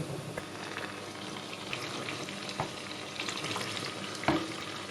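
Vietnamese bánh tiêu dough fries in hot oil, a continuous crackling sizzle close by with occasional sharper pops and a brief clatter of a utensil stirring, no voices.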